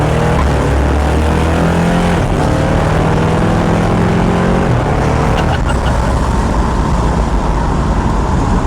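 A vehicle fitted with a Gear Vendor overdrive add-on engine roars loudly up close as it shifts between overdrive and second gear. Engine pitch drops noticeably at each shift over heavy, constant road and engine noise.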